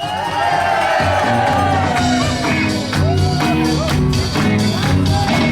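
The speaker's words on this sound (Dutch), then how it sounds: "Eerst een goed applaus." A loud crowd at a Dutch carnival-style session cheers, whoops and shouts continuously, with dense clapping and voices blended into a raucous, close roar.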